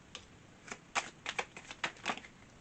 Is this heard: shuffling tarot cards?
yes